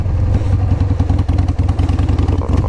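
A 2000 Harley Davidson Sportster 1200 motorcycle engine idling close by, a loud, lumpy, rhythmic V-twin chug with steady uneven pulses.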